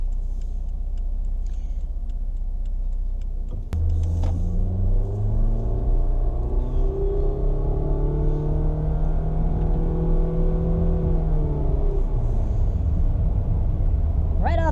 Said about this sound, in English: you do hear the CVT, you do hear the droniness of the engine